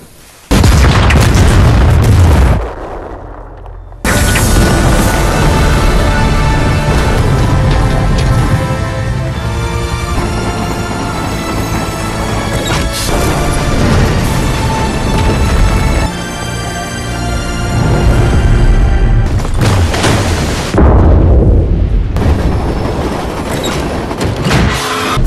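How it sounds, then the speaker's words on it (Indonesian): A massive nuclear bomb blast, after the bomb falls into a river, booms out, followed by a long, loud, roaring rumble that swells and surges for many seconds. "Bom nuklir itu pun akhirnya meledak setelah jatuh ke sungai."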